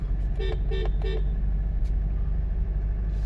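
Three short car horn toots in quick succession on a steep uphill road over a steady engine rumble, followed by continuous road noise.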